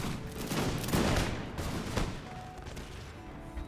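Dense musket volleys and crackling gunfire roll through a Napoleonic battle in the Imperial Splendour mod, with Prussian forces engaged, loud and continuous with overlapping shots and no talk.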